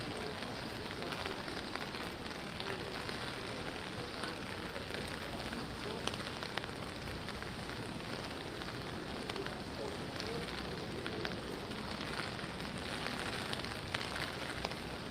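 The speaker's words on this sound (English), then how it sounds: "Should I keep the sound up of the rain or no?" Steady rain falling, a dense continuous hiss of drops that holds at an even level for the whole stretch, with no voices over it.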